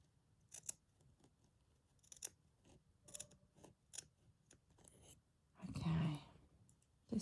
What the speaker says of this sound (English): Let's get little scissors